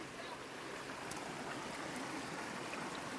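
Clear stream water flowing at a waterfall on a monsoon trek to Harishchandragad, a steady broad rushing wash that stays even throughout without pause.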